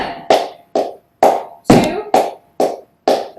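Sharp, close flamenco palmas handclaps beat out a tangos rhythm, eight crisp claps in steady succession with slight variations in spacing, and no voices.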